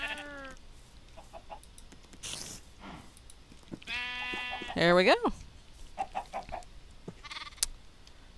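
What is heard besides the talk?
sheep bleating in a video game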